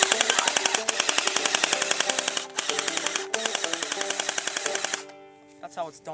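Rapid machine-gun fire in long, evenly paced automatic bursts with a brief break between them, loud and close, ending in scattered softer sounds.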